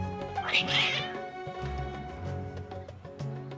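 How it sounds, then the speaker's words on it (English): Cats meow and caterwaul in the Genshin Impact video game, several agitated cries over background game music, with a voice speaking nearby. "Your cats seem pretty worked up."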